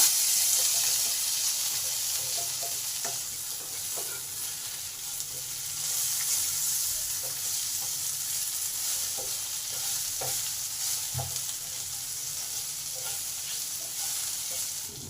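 Potatoes fry in a pan for a bhindi masala, with a steady sizzle and repeated scraping and stirring from a utensil.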